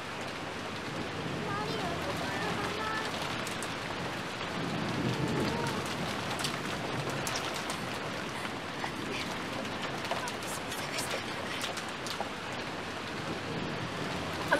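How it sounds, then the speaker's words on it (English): Heavy rain in the Umineko: When They Cry visual novel, a dense, continuous hiss of downpour with low rumbling underneath, steady from start to finish and loud enough to drown out other sound. "it's really hard to hear the voice acting over the rain"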